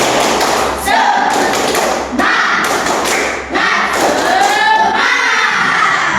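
Schoolchildren in an Indonesian classroom perform a rhythmic spirit clap led by their teacher, loud close claps and thumps in short patterned bursts, with voices chanting along between them.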